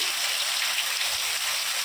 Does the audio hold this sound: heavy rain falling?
yes